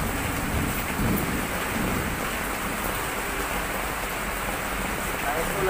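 Steady, dense rain pours during a storm with low rumbling beneath, a constant wash of noise close to the listener that barely changes over the stretch.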